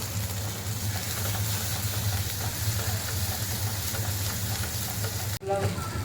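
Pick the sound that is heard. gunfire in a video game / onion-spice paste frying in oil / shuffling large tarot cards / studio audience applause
onion-spice paste frying in oil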